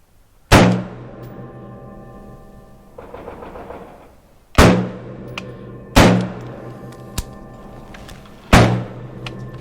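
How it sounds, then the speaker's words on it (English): A Heckler & Koch MR556 A1 AR-15 rifle fires four loud single confirmation shots at an outdoor gun range, spaced a couple of seconds apart, each with a sharp crack and a short decaying echo. "I'm going to go fire a couple confirmation shots."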